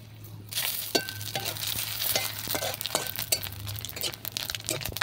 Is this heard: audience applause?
no